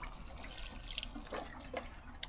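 Watering can pouring water onto a prepared lawn patch repaired after pet damage, a soft uneven splashing and trickling spread over a couple of seconds.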